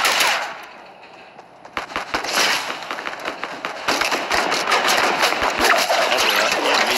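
In Fortnite, a gun fires in rapid, steady bursts of sharp cracks, close and loud over a constant game backdrop, with no talking.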